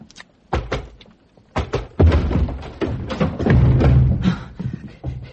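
Repeated heavy thuds and splintering slams of a door being forced and broken down in a radio drama sound effect, loud and close, in an irregular series of blows.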